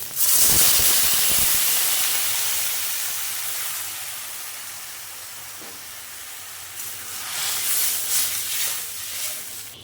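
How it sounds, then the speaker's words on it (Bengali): Water hits a pan of fried onions and chillies with a loud burst of hissing steam and sizzle that slowly settles, then swells again near the end; no one speaks. "পেঁয়াজ লঙ্কা দিয়েও একটু ভেজে নিয়েছি এবার জল দিয়ে দেবো"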